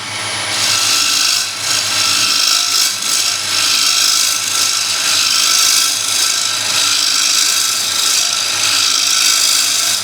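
A wooden bowl spinning on a wood lathe takes finishing cuts, giving a loud continuous scraping, hissing whir that holds steady throughout with small swells.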